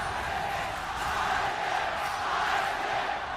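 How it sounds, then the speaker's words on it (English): Arena crowd roaring at the 2017 League of Legends World Championship during an SKT T1 versus RNG match, a sustained dense wall of cheering that swells slightly and never lets up. "the crowd tells us which team just won a team fight right there"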